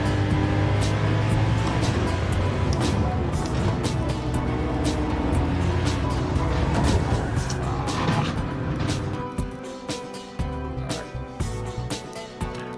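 Continuous engine drone from the player's own car in Gran Turismo 7 on PS4 Pro, steady and fairly loud, thinning and breaking up slightly toward the end.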